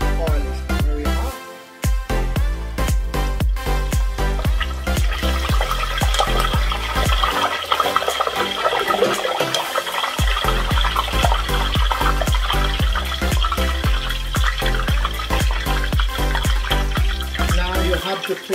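A little water poured into very hot cooking oil sets off a loud, steady sizzling hiss that runs nearly the whole time, with a brief dip early on and a busy, crackling texture throughout.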